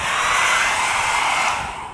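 A handheld hair dryer runs continuously with a loud, steady airy roar and motor whine, close to the listener, tapering slightly at the end with no talking.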